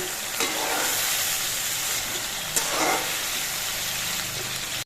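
Prawns sizzle and crackle in hot mustard oil in a wok with a steady hiss, two sharper spatters rising above it.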